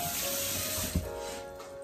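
Tap water runs steadily into a kitchen sink while something is rinsed under it, a continuous close hiss of flowing water with one brief splash near the middle, no talking.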